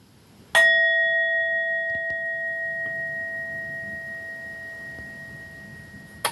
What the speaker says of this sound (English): we'll just ding the bell and then we'll get straight into it